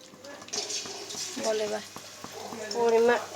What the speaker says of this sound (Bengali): এটাকে পনিরটা লাল লাল করে ভেজে এবার তুলে নেব